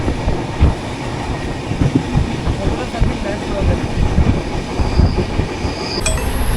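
A passenger train heading toward Nagaland rolls along the rails with a continuous rumble, rhythmic wheel clatter and a brief high squeal near the end, heard from inside the carriage.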